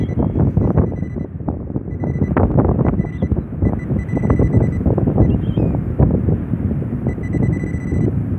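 Strong wind after a storm on a UK beach buffets the microphone with a constant, loud, gusty roar and low rumble that continues with no pauses.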